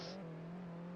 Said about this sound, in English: I can hear some cars idling here.